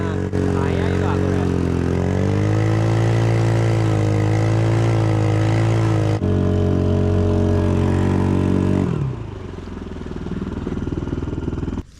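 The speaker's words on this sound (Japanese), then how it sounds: "スターター引っ張ったらちゃんとエンジンかかった。" A 2-horsepower outboard engine on a rubber boat runs close and loud with a steady droning hum, then drops to a lower, quieter tone near the end.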